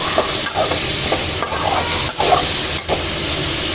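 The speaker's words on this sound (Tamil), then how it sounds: "சேர்த்து நல்லா கிண்டி வச்சுருவோம். தக்காளியும் கொஞ்சம் நல்லா வதங்கணும்." Tomatoes sauté in a pan for a chicken 65 masala, a steady loud sizzle and hiss broken by several scraping stirs of a spoon against the pan, close up, with no talking.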